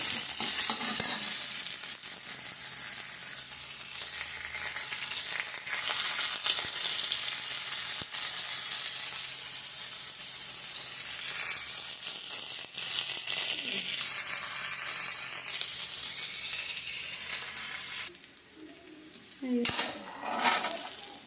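Onion fries in oil in a pan while making a pea-stuffed paratha filling: a continuous sizzle with stirring and clinking of a spoon against the pan. The sound drops briefly near the end before more clattering.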